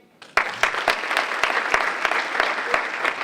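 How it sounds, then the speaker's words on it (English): After a brief quiet start, an audience at a leadership studies minor mixer breaks into applause, with sharp individual claps standing out over a steady crowd of hands. "Another round of applause for our champion who helped make this possible"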